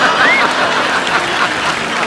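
A studio audience at a comedy talk show breaking into applause, a dense, fairly loud wash of clapping that carries on through the whole moment with faint voices mixed in.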